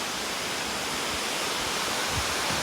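The Tarabu waterfall makes a dense, continuous broadband rush of falling water, close and steady throughout, with no voices over it.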